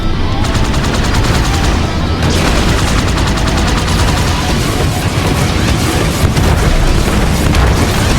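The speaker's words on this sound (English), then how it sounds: "Let's use this rocket launcher to destroy the giant sentinel" Rocket launcher fire aimed at a giant sentinel in Halo 2's Quarantine Zone mission, heard as a continuous loud barrage of blasts and booming explosions with dense gunfire-like crackle throughout.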